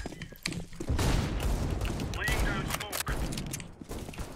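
Revolver gunfire in the PC game PUBG, a burst of loud shots and thumps near the start, mixed with dense game noise and voice chat throughout.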